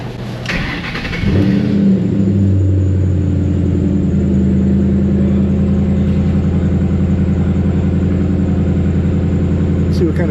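A Ford Mustang engine cranks and fires up, then settles into a loud, steady rumbling run with revving, close by in an auto shop, with people talking over it.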